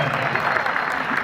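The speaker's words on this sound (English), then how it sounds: "Thank you for that applause" A brief burst of audience applause at a Terminator 2 3D world premiere event, a dense wash of many hands clapping at once with faint voices mixed in.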